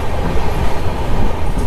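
The Marusagar Express, running from Ernakulam to Ajmer, pulls into Thivim railway station in North Goa, a loud, close, continuous rumble of wheels and carriages with no voices.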